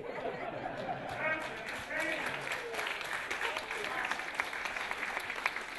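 A comedy audience at the San Francisco Public Library claps steadily and loudly throughout, with crowd chatter mixed into the applause.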